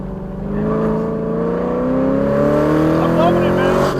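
A car on an open race track accelerates hard out of a corner, its engine note rising steadily and loudly for several seconds with a whirring drone, heard from inside the vehicle.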